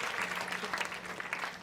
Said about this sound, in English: Can we have a round of applause for Rishi?